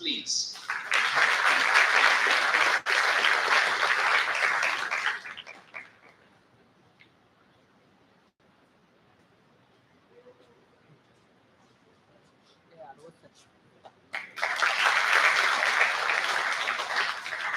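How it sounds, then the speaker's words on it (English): Audience applause at a felicitation ceremony during an induction programme: a loud, dense burst of clapping lasting about five seconds, then near silence, then a second full round of clapping rising again toward the end. "A big round of applause, please."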